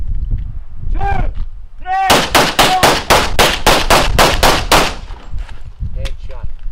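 A rapid string of about a dozen pistol shots cracks close and loud at a shooting class, evenly spaced in a quick burst, with a few raised instructor commands before and after.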